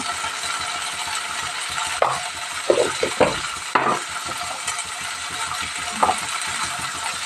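Mutton curry with tomatoes and turmeric gets stirred in a pan, a soft steady sizzle broken by several distinct scraping and clinking spoon strokes.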